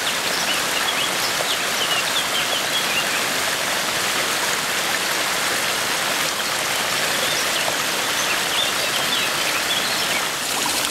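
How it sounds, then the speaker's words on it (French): A flowing stream running over moss-covered ground in the French countryside, a loud, steady rush of water with faint bird calls scattered above it. "Des oiseaux qui nous chantent ça au passage."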